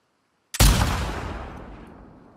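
A single loud gunshot in The Last of Us 2, fired at a red sign in Seattle, comes after a moment of silence, with a sharp crack and a long echoing tail that fades out.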